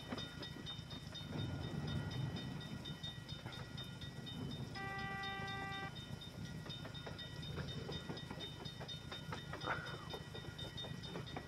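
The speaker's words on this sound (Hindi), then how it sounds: "देखिए ट्रेन निकल गई है" A train passes a level crossing in a Russian car-driving video game, a quiet, continuous rolling rumble with faint clatter. A brief tonal horn blast sounds midway.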